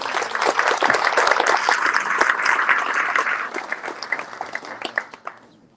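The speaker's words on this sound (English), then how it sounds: "Let's give both these two guys a big round of applause." Audience applause at a business growth summit, a dense wash of clapping that holds steady for several seconds, then thins into scattered claps and dies away near the end.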